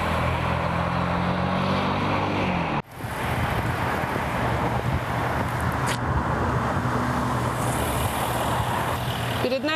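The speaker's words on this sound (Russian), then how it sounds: "Перед нами принципиально новый 5-литровый V-образный 8-цилиндровый двигатель Jaguar XFR" A 2010 Jaguar XFR with a 5-litre V8 driving, a steady engine and road roar, briefly cut by an abrupt break near the three-second mark before the drone resumes, heard from close by.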